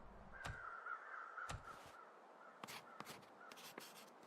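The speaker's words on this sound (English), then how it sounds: "we've got crows circling over there" Crows caw in the video game The Long Dark, several harsh, separate calls spread irregularly across a few seconds over a faint steady background, some sharper and closer than others.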